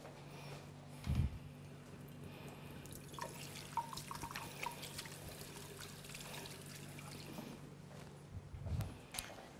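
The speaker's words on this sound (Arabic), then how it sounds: "نغسل يدي" Hands washed under a running kitchen tap, a faint steady trickle and splash of water with a few louder splashes, no one speaking.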